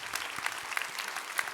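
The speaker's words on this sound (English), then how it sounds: "And can we just, again, applaud Ayman and Alita and Nuria." A conference audience at a SIGCHI town hall claps together in a dense, steady burst of applause heard up close for a short moment.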